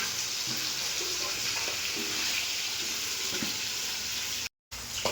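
Fish masala sizzles steadily in a hot pan while being stirred, a close, continuous frying hiss with occasional scraping, ending in a brief cut to silence.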